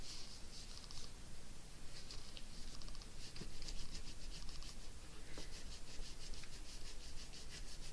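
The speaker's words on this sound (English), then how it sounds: "Just rub that a little bit, stick it down." A fingertip rubs a sticker down onto a canvas on a tabletop, making soft, close, scratchy friction that comes in short repeated strokes at a low level throughout.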